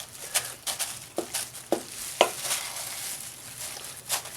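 A crab and spinach stuffing with roasted peppers is gently folded in a bowl, producing close, soft wet squelches and scraping swishes at an irregular pace, with no speech.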